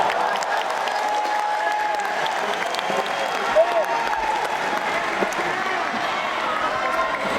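Steady applause from a large crowd at a political party declaration event, continuous and fairly loud throughout, with a faint voice in the background.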